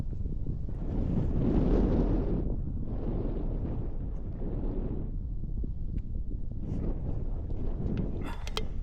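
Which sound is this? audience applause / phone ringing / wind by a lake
wind by a lake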